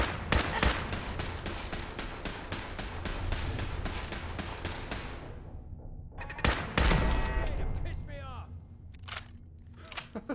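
Rapid gunfire in Fallout 4, dense bursts of loud shots for several seconds, then a pause and a few more scattered blasts with whooshing game effects, speech heard over the shooting.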